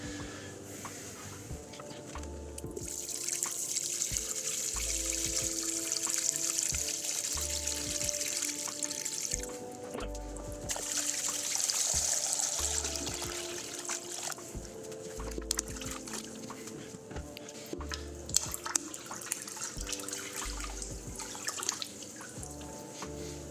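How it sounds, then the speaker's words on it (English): Mineral RO water pours into a shrimp aquarium as a soft continuous trickle and splash, with faint irregular drips and taps throughout, quiet and close. "let's get that water added"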